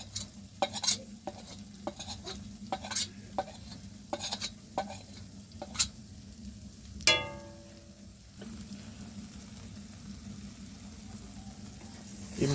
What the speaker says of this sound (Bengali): এই মশলাগুলো দিয়ে এবার আমি এটাকে ভালো করে কষে নেব।